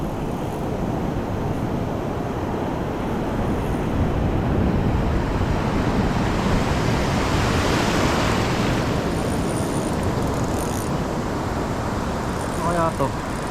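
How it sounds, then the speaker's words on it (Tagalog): Big ocean waves roar and crash continuously on a Philippine shore, a dense broad surf noise mixed with wind buffeting the microphone. "hirap lumapit, malalaki ang alon."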